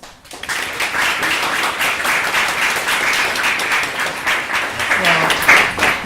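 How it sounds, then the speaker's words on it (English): An audience applauds steadily for several seconds, a dense wash of clapping with faint voices underneath. "Let's give them a round of applause."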